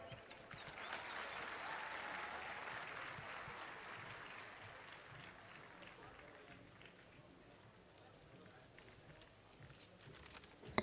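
An audience at an awards ceremony for successful government job exam candidates claps in a sustained round of applause, dense and steady at first and gradually thinning, heard from within the hall.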